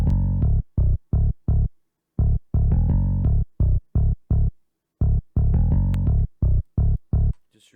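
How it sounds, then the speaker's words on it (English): Boo Bass plugin bass line programmed in FL Studio for a hard trap beat, short punchy low notes in a choppy, syncopated rhythm with gaps of silence between hits, playing alone. "So I came up with this bass line here."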